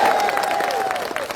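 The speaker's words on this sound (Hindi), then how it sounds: "मेरे लिए ताली हो जाए यार" Applause from an audience at a public talk, a steady wash of clapping throughout, with a sustained tone and some crowd noise underneath.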